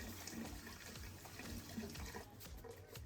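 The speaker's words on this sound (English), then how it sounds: "We're just going to rinse that under some water until the water runs clear." Quinoa is rinsed under running tap water, a steady, quiet stream splashing into a sink, with faint clinking of the strainer throughout.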